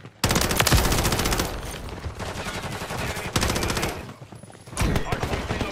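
Remote turret gunfire in Call of Duty during a hardpoint match, loud and sustained rapid automatic fire, hammering almost continuously with brief gaps and close, dense bursts.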